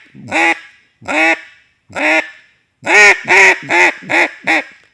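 A Haydel duck call blown very softly with little air imitates a duck: four spaced, nasal quacks followed by a quicker run of five, close and clear with no talking.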